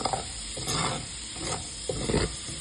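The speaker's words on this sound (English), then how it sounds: "Okay, the onions are in. Okay, start getting these soft and translucent." Onions frying in a pan, a steady sizzle broken by scraping stirs, close and fairly loud with no talking.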